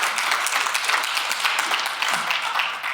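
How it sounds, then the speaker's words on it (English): An audience applauds at a keynote, giving dense, steady clapping that fills the room at a constant, loud level for a few seconds. "Give him a round of applause for raising me."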